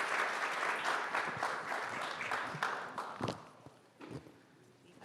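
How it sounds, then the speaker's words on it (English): Audience applause for a panel at a Clinton Global Initiative event, steady dense clapping that thins and fades toward the end, with a voice faintly beneath. "Yes, please, applause."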